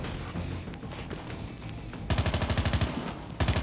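Rapid bursts of gunfire from the Call of Duty Black Ops mobile game, a steady background of shots giving way to loud, evenly spaced automatic rounds near the end.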